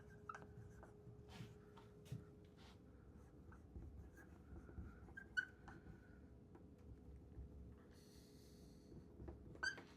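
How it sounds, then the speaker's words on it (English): Pen or marker writing out an equation for a discrete math summation proof: steady scratchy strokes with short taps and pauses, close and fairly quiet, with no talking. "let's try to write it in the forward direction, right?"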